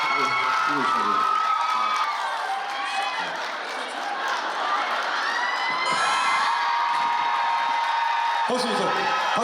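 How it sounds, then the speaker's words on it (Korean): A concert crowd at a show cheers loudly and continuously, with high screams and whoops forming a dense wall of noise and voices calling out on top. "박수 한번 부탁드립니다."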